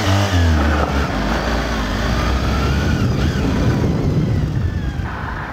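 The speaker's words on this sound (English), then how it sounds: "you need to give it a really big handful of revs to move off from the start" A small V4 sports motorcycle revs hard to pull away from a standstill, its engine note loud and close, rising and falling under the rider's throttle throughout.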